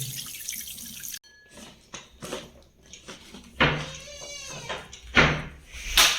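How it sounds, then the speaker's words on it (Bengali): Water runs and splashes in bursts over an RO purifier's pre-filter candle as it is rinsed and turned by hand, with someone speaking quietly between the gushes. "এই যে এইরকম করে পরিষ্কার করতে হবে জল দিয়ে"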